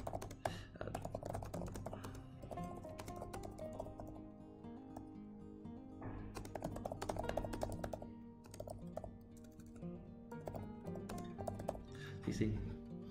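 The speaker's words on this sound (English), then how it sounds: "we can type our text" Text is typed on a computer keyboard while a script is written in Word, the quick irregular key taps clustering in bursts under a person talking.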